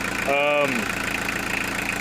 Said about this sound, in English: you'll actually listen to the revs pick up